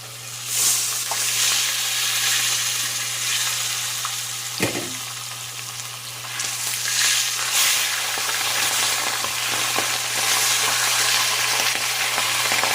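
Freshly flipped pompano fish frying in a pan, a loud, steady, close sizzle with crackling spatter, a brief knock midway and a constant low hum underneath.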